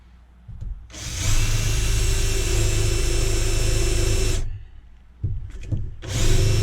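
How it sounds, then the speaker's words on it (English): A power drill boring through metal on a Volkswagen camper van whines loudly and steadily for several seconds, stops, then revs in short bursts before spinning up again. "I'm guessing this drill bit doesn't want to go through"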